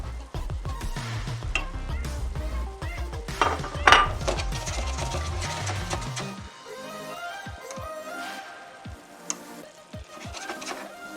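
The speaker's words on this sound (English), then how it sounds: "And now we're going to add our ackee." Ackee is added to a pan of onion, scallion and sweet peppers, bringing clinks and scrapes of utensils against the pan under a faint sizzle, with clattering early on and soft taps later.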